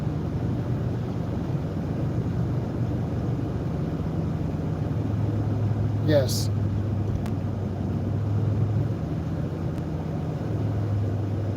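Low, steady engine and road drone from inside a car crawling through a traffic backup, continuous throughout, with a brief high squeak midway and a voice speaking briefly.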